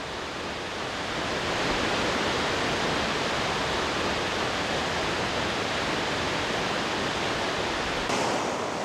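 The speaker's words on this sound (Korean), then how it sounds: "힘찬 폭포 소리가 여행자의 지친 심신을 달래줍니다." A powerful waterfall at Plitvice Lakes in Croatia roars as a dense, continuous rush of falling water, loud and steady throughout with no voices.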